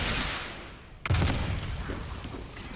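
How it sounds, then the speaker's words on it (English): A rocket launcher fired into an open area in the video game Resident Evil Requiem, giving a sudden loud blast with a deep boom that rolls into a long rumbling, crackling decay. "I would like to shoot this rocket launcher at just open area and see how big the explosion is"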